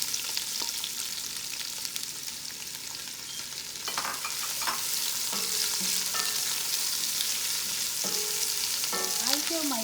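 Onion frying with cumin seeds in a cast iron pan, a soft continuous sizzle that brightens after a few seconds, with scattered stirring clinks and scrapes near the end.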